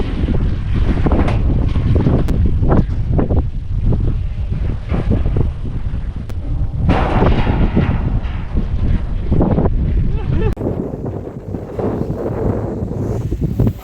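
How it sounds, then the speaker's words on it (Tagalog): Strong wind buffets the microphone in loud, rumbling gusts that rise and fall over the whole stretch, with no talking. "Isang hangin."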